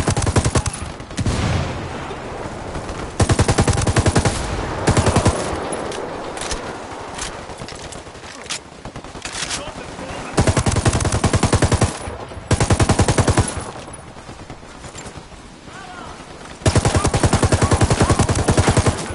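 Automatic rifle fire in the video game Ghost Recon Wildlands, a loud, close fight with long rattling bursts broken by short pauses across the whole stretch, and no talking.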